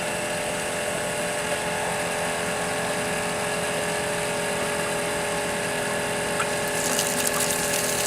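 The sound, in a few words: water pump running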